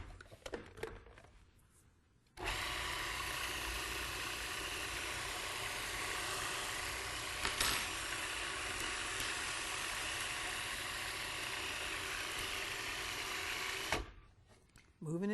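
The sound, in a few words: food processor blending kelp into a patty mixture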